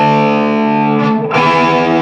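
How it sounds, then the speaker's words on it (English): Sustained distorted electric guitar notes play a harmony part from a song, loud and rich in overtones, with a brief dip as the note changes midway. "Now, again, you'll hear the other guitar."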